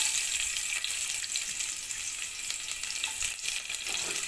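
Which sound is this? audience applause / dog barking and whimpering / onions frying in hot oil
onions frying in hot oil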